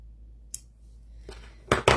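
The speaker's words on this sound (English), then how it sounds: "So I am going to cut some thread, and we switch scissors now to my thread scissors." A couple of quick, crisp snips of thread scissors cutting sewing thread, the last two close together, in an otherwise quiet room.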